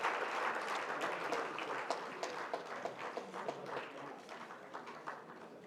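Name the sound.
audience applause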